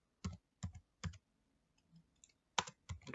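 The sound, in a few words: typing on a computer keyboard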